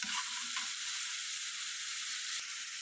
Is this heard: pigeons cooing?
no